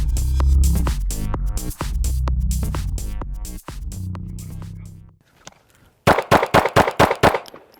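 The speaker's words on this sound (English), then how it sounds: "At a moment of your choosing, run the trigger straight back." Pistol shots during a trigger drill at a shooting class ring out as a rapid string of sharp, loud cracks after a brief lull, following a stretch of steady tonal background sound.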